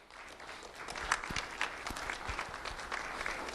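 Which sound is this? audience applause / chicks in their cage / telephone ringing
audience applause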